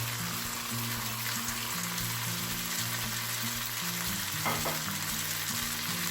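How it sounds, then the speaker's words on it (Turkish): Homemade curd cheese (lor) stirred in a pan gives a steady, close sizzling hiss with soft scraping throughout, over faint low tones in the background. "Bunu ekledikten sonra biraz karıştırıyorum."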